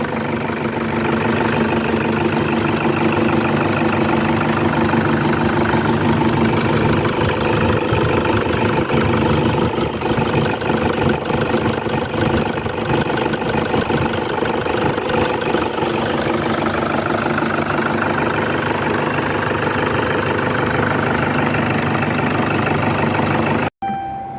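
A 2004 Toyota Hilux Tiger pickup with a 2.5-litre D4D common-rail diesel idles steadily, with a dense, continuous rumble and a faint knocking texture. It stays close and constant for about 24 seconds, then cuts off abruptly.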